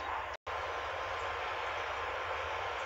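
A TLK Wydmy passenger train at a railway station, heard as a steady, moderately loud rolling rumble with a very brief dropout near the start.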